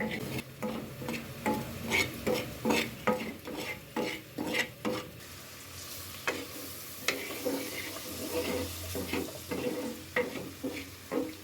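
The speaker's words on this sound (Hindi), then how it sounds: "इसको इतना भूनना है जैसे हम चने भूजे हुए लेते हैं ना" Gram flour (besan) being roasted in a pan, with repeated scraping and stirring strokes of a spoon in a steady rhythm over a faint, dry sizzle.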